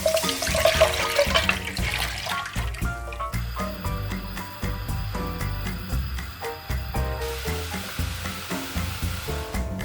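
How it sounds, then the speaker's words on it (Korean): Water drains from a pot of boiled baby potatoes, a loud rushing pour that shifts into a steadier stream partway through, close up and with no voices. "한 2분 정도 더 끓여준 다음에 물기를 싹 빼줄 거예요"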